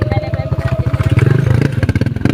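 A motorcycle engine putters and revs in rapid, uneven pulses while the bike struggles along a rough, narrow road, loud and close with a rattling chug.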